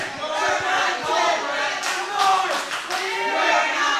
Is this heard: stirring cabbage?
no